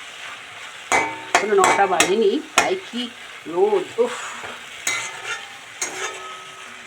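Food sizzles and fries in a pan while a utensil scrapes and stirs it in short, uneven strokes, close and fairly loud, with someone briefly speaking over it.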